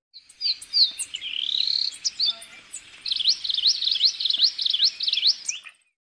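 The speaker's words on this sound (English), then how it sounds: "Euphonia." A euphonia sings a bright, high series of chirps and rapid repeated trilled notes, close and clear against a quiet background.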